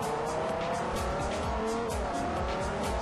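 A race car in Forza Horizon 4 roars continuously at high revs with steady, loud engine drone and hints of tire squeal, running alone without voices.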